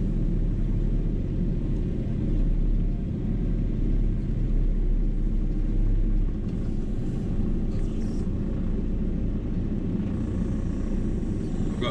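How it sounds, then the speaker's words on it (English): A vehicle drives into a farm yard, heard as a steady low engine rumble that holds throughout with little change, fairly loud and close, with no talk. "Somebody driving in the yard."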